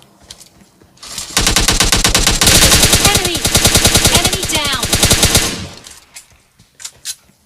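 Rapid automatic gunfire in PUBG Mobile Lite, a loud sustained burst of dense shots lasting about four seconds, with scattered quieter shots trailing off afterward.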